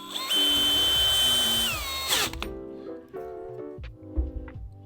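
A power tool runs in a long steady whir while fastening a roof rack wind fairing on a 2nd Gen Toyota Tacoma, then stops, followed by softer clicks and handling noises close by.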